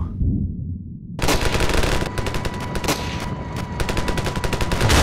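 Automatic gunfire in the video game Ravenfield: a brief quiet lead-in, then a sudden sustained burst of rapid, loud shots rattling continuously to the end, with no talk over it.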